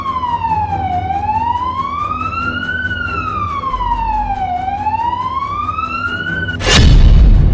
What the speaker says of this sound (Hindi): सायरन की चीखती आवाजों वाले शहर मॉस्को में दहल रहे लोगों की